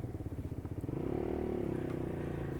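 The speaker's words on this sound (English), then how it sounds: "this is a modern Chinese motorcycle" A Lexmoto LXR SE 125cc Chinese motorcycle pulls away with a low, pulsing single-cylinder exhaust putter that rises into a steady, louder engine drone as it rides off nearby.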